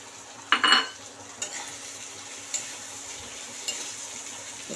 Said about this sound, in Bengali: ট্যাংরা মাছগুলোকে একটু কড়া করে ভাজবেন